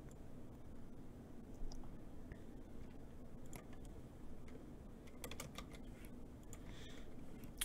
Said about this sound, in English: I'm typing on the wrong spot